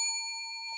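A single clear bell ding rings out alone and sustains evenly with a bright, pure tone, moderately quiet, decaying only slightly before a faint rustle at the end.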